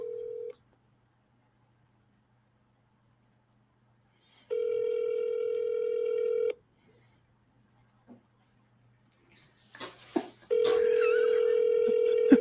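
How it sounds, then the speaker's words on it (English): Steady electronic ringback tones on a phone line, two long rings separated by silence, with some faint handling noise in between. "It's ringing."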